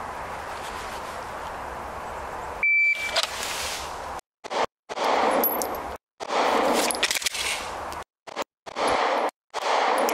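A string of live gunshots fired at targets on a shooting range, loud sharp bangs in separate bursts with near-silent gaps between them and no talking.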